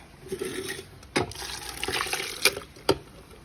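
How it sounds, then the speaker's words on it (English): Water splashes and gurgles into a blender jar holding roasted chiles for a pork rib stew, in short uneven pours with a few sharp clinks, close and moderately quiet. "I'm gonna add a little bit of water so I can get that little oregano."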